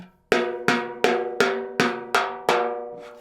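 A snare drum with its head tuned only finger-tight is struck seven times at a steady, even pace, each hit ringing with a low, boomy, slightly pitched tone that decays quickly.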